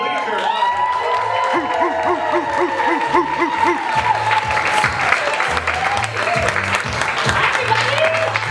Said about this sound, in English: Make it loud for Jenna